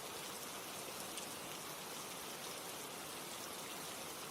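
Rain falls steadily as a soft, even hiss of drops with no pauses, distant and faint, no voices over it.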